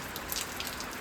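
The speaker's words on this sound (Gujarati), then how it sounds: "વરસાદ ચાલુ થઈ ગયો." Rain beginning to fall in a village, a steady soft patter of drops outdoors with brief brighter splashes, continuous and fairly quiet with no talking.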